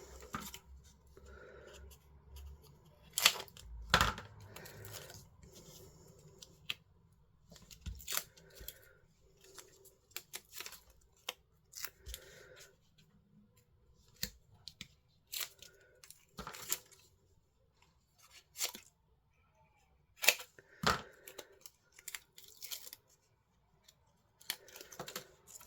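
Scissors snip through paper for a letterpress craft made with dies, giving sparse, quiet cuts in irregular bursts, with rustling and handling noises between them.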